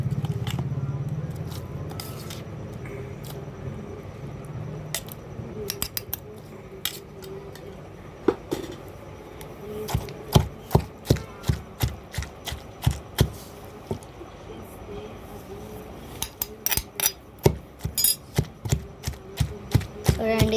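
Red chilli and soaked tamarind are pounded in a stone mortar for a pickle, with sharp, irregular thuds that start sparse and grow into quick runs of strikes over a low background hum.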